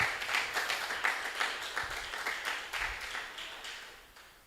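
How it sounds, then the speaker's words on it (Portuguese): A church congregation claps during an evening celebration service, a modest patter of hands spread across the room that rises, wavers and slowly fades over a few seconds, with no talking over it. "Vamos aplaudi-lo nessa noite"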